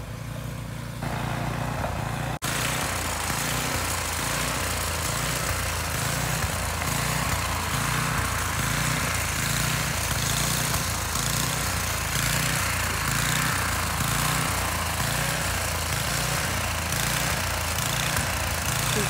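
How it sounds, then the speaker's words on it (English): A snow blower runs outside clearing snow on a cold day, a steady, loud engine drone with a rhythmic pulsing throb that continues unbroken throughout, with no voices over it. "the noise you hear in the background is him with the snow blower"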